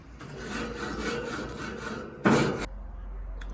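A hot steak grill grate gets scraped with a tool, a steady grinding rasp that ends in one short, harsh, louder scrape before it stops.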